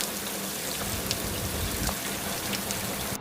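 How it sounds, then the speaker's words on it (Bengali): Steady rain falls outdoors at a riverside campsite by the Jaldhaka River, a dense continuous patter with scattered louder drops and no voices. "বৃষ্টি নেমে গেছে"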